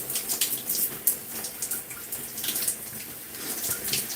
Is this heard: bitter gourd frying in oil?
no